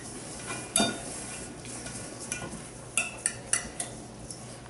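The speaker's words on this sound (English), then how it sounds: "we're going to just quick whisk them together to make sure that that baking powder is really well blended" Dry muffin ingredients being whisked in a bowl, light metal clinks and taps of a whisk against the bowl, scattered and uneven, fairly faint over a quiet kitchen background.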